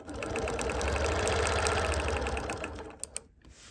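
A BERNINA longarm sewing machine stitching with a ruler hums along in a fast, even mechanical whir of rapid needle strokes, fairly close, then slows and stops with a couple of clicks at the end.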